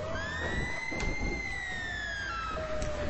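Siren of an ambulance inside a video game: a single gliding wail that rises and slowly falls, steady and fairly loud over a dense background, no voices.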